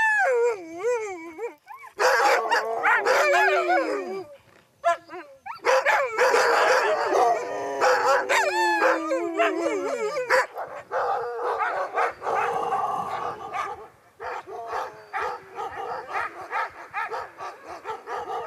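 Husky sled dogs in the tundra bark, yip and howl in overlapping bursts, loud and close, with long wavering howls rising and falling between sharper barks and no talking.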